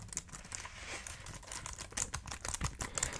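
Rapid, continuous clicking of keys being typed on a compact iPad keyboard, an even patter of soft taps at close range with no talking.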